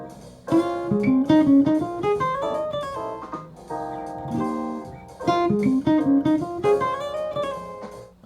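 A jazz phrase built on a pivot arpeggio pattern, played as flowing single-note lines with a few pauses, clear and moderately loud with no talking.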